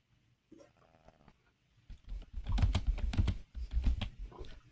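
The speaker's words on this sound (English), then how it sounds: "sorry if my keyboard is showing up on the microphone" Computer keyboard typing picked up by a nearby microphone, a quiet patter at first, then a dense run of loud clicking keystrokes in quick rhythm through the second half.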